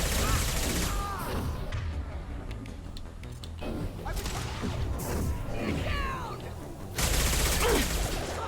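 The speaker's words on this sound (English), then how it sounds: "Firing a high-impact shot!" Gunfire in Mass Effect 2, with a high-impact shot among a busy run of loud cracks and bursts, heard over game battle noise and a voice talking.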